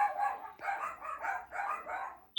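A dog barks in a quick run of about four harsh, rapid barks, picked up through the speaker of a solar-powered 4K security camera, sounding thin and clipped.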